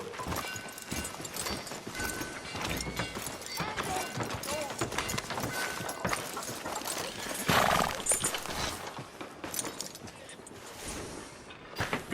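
Horse hooves clip-clop through a town street in the Red Dead video game, a dense, continuous rhythmic clatter mixed with busy background sounds and occasional voices.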